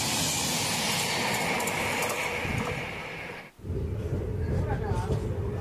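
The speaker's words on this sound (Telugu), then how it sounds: "విశాఖపట్నం హజరత్ నిజాముద్దీన్ స్వర్ణ జయంతి ఎక్స్ప్రెస్" The Visakhapatnam–Hazrat Nizamuddin Swarna Jayanti Express rushes past on an adjacent track, a loud steady roar of wheels and wind that briefly drops away and then returns. Voices are faintly audible.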